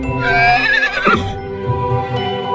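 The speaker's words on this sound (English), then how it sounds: "H is for horse." A horse neighs loudly with a shrill, quavering whinny that drops off, followed by a soft snort and faint hoof sounds.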